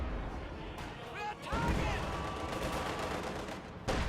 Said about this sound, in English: Apparently that shot sailed wide and flew off into the distance.